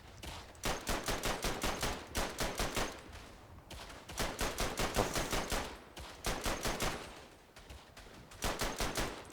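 Machine gun fire in the World War I shooter Verdun, heard as several loud, close bursts of rapid shots separated by brief pauses.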